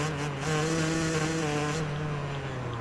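Yamaha YZ250 two-stroke motocross bike in the MXGP Pro video game, a steady buzzing engine drone holding a high pitch throughout, loud and near.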